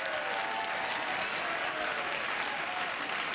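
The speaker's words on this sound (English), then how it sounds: "Let's clap to keep him warm." Studio audience on a late-night talk show applauding steadily, a dense even wash of many hands clapping throughout, with a faint voice briefly audible early on.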